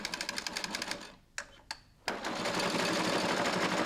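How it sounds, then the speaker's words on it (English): An industrial sewing machine stitches binding tape onto a carpet edge in fast, even bursts of mechanical rattling, pauses briefly with a few clunks, then resumes at a steady, loud whir. "Lower the top roller and carry on sewing."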